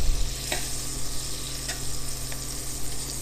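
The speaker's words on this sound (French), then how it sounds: "Je vais maintenant marquer l'ananas à la poêle, au beurre pour avoir une belle coloration." Butter sizzles in a very hot frying pan, a steady close crackling hiss with a few sharper pops, heard alone without talk.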